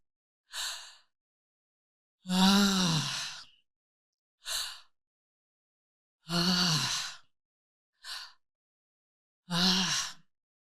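A calming breathing exercise is demonstrated alone: six slow, deliberate breaths alternating between sharp inhales and long voiced sighing exhales, each separated by a second or more of silence.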